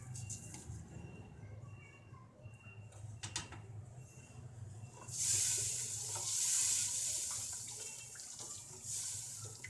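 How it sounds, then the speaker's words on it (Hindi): Spices roasting in a pan for white chana masala, with soft stirring and faint sizzle that swells into a louder, steady hiss partway through. "और इसे थोड़ी देर के लिए भूनेंगे।"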